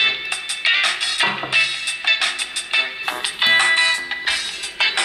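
Music plays at full volume through the bottom-mounted loudspeaker of a V phone i6, an iPhone 6 clone smartphone, sounding bright and thin with steady beats and no talking.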